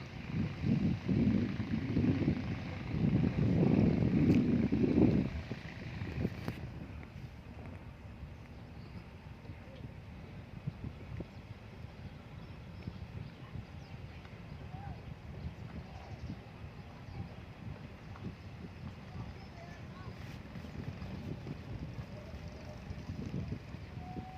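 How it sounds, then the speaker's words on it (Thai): Gusty wind and low boat rumble fill the open harbor at Pattani, Thailand, on a November morning, with a louder burst early on before settling into a steady, breezy hum. "บรรยากาศท่าเรือปัตตานีเด้อครับนี่"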